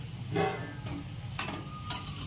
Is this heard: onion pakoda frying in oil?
yes